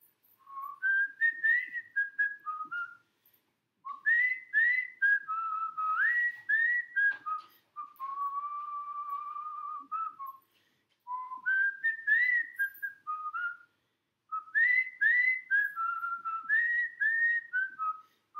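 A person whistles a bouncy, jaunty tune alone, phrases repeating with short pauses between them, clear and close.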